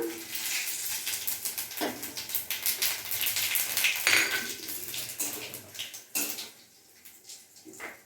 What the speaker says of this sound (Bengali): এবার এই তেলের মধ্যে আমি এখানে জিরে, তেজপাতা বলছি, সরি, শুকনো লঙ্কা আর গোটা জিরে ফোড়ন দিলাম।